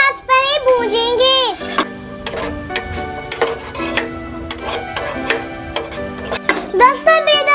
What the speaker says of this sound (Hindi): घी गरम हो गया है, अब हम सूजी को डाल के भूजेंगे।